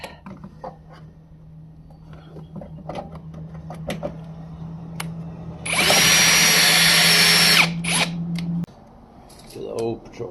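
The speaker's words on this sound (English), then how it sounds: "I really need to get a new chuck for this drill." A power drill with a worn chuck bores during cleanup of a Nissan Patrol engine bay, with a loud high whine for about three seconds amid motor hum, clicks and handling noises.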